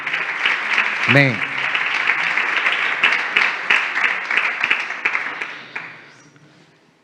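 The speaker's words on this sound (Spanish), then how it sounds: "Y un aplauso para el Señor." Congregation applauding in a church, a steady wave of clapping lasting several seconds before dying away, with a brief spoken word near the start.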